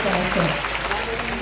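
An audience at a Rangchali playfield event claps for the Chief Minister, a dense wash of applause heard briefly and at close range, with a voice speaking over it.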